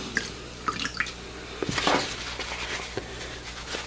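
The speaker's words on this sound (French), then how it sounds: "Après, ça, il faut le laver. Donc je le trempe dans l'eau." A sponge dipped into water during watercolour painting with a sponge, giving soft drips and a wet splash, close and fairly quiet, with a few brief trickles and no talk.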